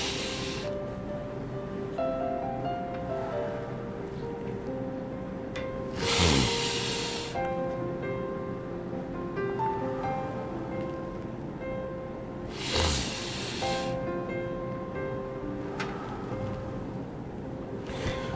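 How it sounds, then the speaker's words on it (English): A person taking deep, slow breaths in and out as a calming exercise, with two clear airy breaths spaced several seconds apart, close and fairly soft, over a quiet background with a faint tonal hum. "Take a deep breath."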